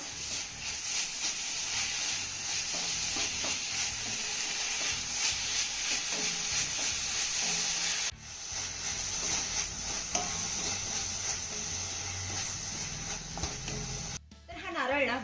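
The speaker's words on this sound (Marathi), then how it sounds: "आता हा खोलेला नारळ ना गुळामध्ये चांगला मिक्स करून घेऊया" Grated fresh coconut is stirred into melted jaggery in a pan, with a steady sizzle and scraping under it throughout. A voice talks over the stirring, and there are brief breaks in the sound.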